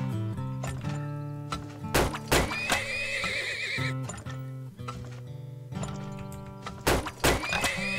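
Horses neigh loudly several times over clopping hooves in the oil-drilling video game Turmoil, with steady game music underneath.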